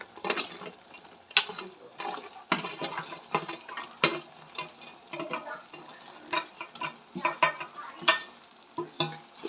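Fried cauliflower gobi is tipped into a pan and stirred through for a Gobi Manchurian, a steady run of scraping spatula strokes and clattering against the pan over a faint sizzle, with no talking.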